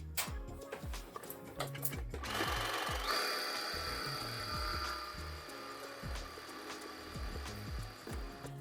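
A sewing machine stitches a buttonhole on stretchy sweatshirt fabric backed with cotton interfacing, giving a rapid, close mechanical ticking hum with short stops and restarts and a thin whine, with no talk.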